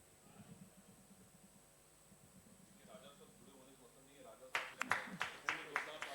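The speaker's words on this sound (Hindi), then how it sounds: "एक बार जोरदार तालियां हो जाए राजा साहब के लिए।" A brief burst of applause breaks out near the end at a political convention in Agra, sharp close claps following a stretch of faint murmuring and talk.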